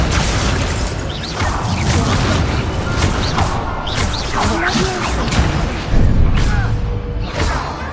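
A fire spell blast in the Hogwarts Legacy video game, a dense roaring burst of booming, crackling noise lasting several seconds, loud and full with a brief swell near the end.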